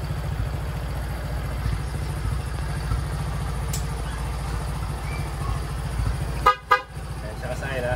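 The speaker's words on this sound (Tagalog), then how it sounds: "Busina natin." A motorcycle engine idles steadily, then two short, sharp horn beeps sound in quick succession near the end.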